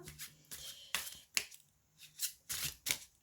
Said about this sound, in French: C'est parti, on commence immédiatement, donc je bats les cartes.